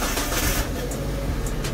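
A Mitsubishi Colt T120SS in good, original condition cranks and fires up, a brief, close, rough burst of engine noise.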